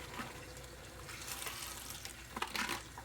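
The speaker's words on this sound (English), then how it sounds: "we're gonna wash our our green peppers and our onions." Running water from a tap splashing over green peppers and onions being washed, a steady hiss with a few brief louder splashes near the end.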